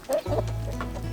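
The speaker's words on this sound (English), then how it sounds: "Oh, there's a chicken in there." Chickens clucking in a backyard coop at an old Tasmanian cottage, a few short clucks close by over a steady low hum, with no talk.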